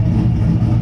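A car engine runs nearby with a steady, loud, low rumble.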